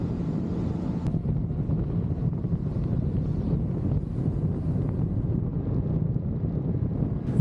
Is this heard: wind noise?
yes